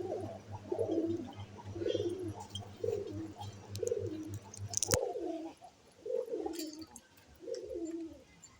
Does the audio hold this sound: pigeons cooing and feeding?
yes